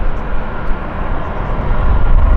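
A KC-135 tanker aircraft at an air base media day, its engines producing a steady, loud broadband roar that swells slightly toward the end, heard alone without talk.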